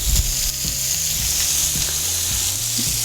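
Shrimp scampi sizzles loudly in a frying pan, a dense hiss of hot oil broken by a few soft scraping knocks of a utensil against the pan bottom.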